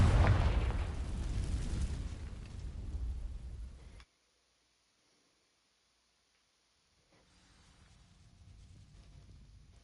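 A Confringo fire spell from Hogwarts Legacy ignites dry vines with a loud burst and a roaring blaze that holds for about four seconds. It cuts to silence, then a soft low rumble returns.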